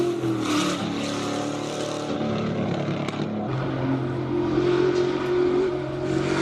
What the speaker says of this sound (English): Birthday boy pulling up in his Fiat.